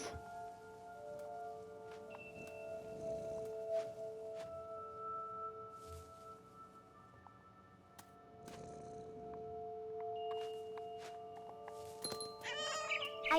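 A cat in the video game What Remains of Edith Finch gives a few faint meows and soft movement noises over quiet, sustained musical tones.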